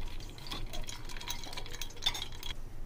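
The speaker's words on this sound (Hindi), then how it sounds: "अच्छे से मिक्स कर लेंगे" A mango sharbat (raw mango, keri) with ice cubes and cold water is stirred in a glass, giving soft repeated clinks and liquid swirls that stay fairly steady and close throughout.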